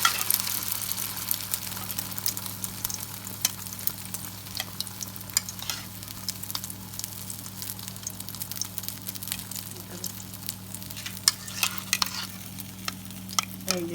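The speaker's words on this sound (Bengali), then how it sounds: "এখন পাউরুটি আমি দিব, দেওয়ার পরে ভাজবো।" Bread dipped in egg fries in a pan for a breakfast dish, giving a steady, close sizzle with crackling pops throughout, and no talking over it.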